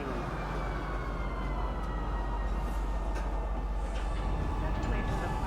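A train pulls into a station platform at a spaceport in the game Star Citizen, with a loud, sustained rumble and rising and falling whine. An automated announcement voice speaks over it.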